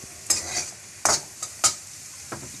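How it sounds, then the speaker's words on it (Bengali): Potatoes frying in a pan for a potato and brahmi greens dish, with a few sharp spatula scrapes and stirring strokes over a low, steady sizzle, close by and without talk. "এই যে আলুটা ভাজছি"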